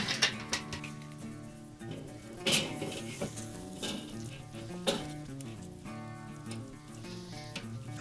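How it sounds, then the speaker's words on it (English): A spatchcock turkey going onto a charcoal grill beside the coals, giving a steady close sizzle with a few light metallic clatters from the grate. "let's go ahead and get this spatchcock turkey onto the grill opposite the coals"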